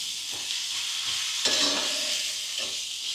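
Chopped onions sautéing in a pan for a home-style Maharashtrian mutton kaleji fry, giving a steady close sizzle with occasional stirring scrapes and no talk.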